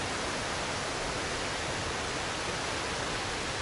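A waterfall roars steadily in a park, a dense, constant wash of rushing water with no breaks, loud and close.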